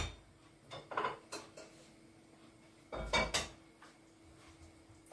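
Cooked Mexican-style beef stew is scooped from a pot onto a plate, with a few soft clinks and scrapes of utensil against pot and plate in two clusters, quiet and close.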